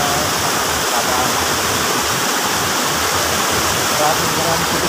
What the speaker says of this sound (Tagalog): Maraming tubig.